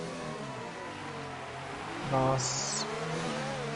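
F1 race cars in a video game, running close together in a slipstream, give a steady engine drone with a brief rising whine partway through, heard under a commentator's voice.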